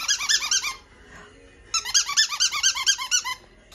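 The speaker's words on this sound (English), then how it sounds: "Wonder if I can squeak a toy and get you over here." A squeaky dog toy is squeezed for five-week-old pocket goldendoodle puppies in two bursts of rapid, high-pitched squeaks separated by a short pause, close and clear with no talking.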